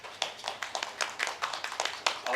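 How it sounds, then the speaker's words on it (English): Audience at a literary awards panel clapping to welcome a panelist, a brief, fairly quiet patter of hand claps from a small crowd. "Let us welcome with a round of applause, Mr. Ruchir Joshi."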